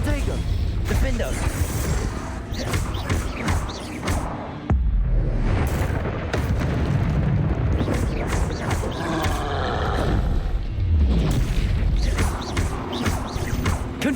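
Spell explosions from Confringo fire in Hogwarts Legacy battle, a dense run of crashes, thuds and rumbling blasts keeps up loud and close across the whole stretch amid chaotic combat effects.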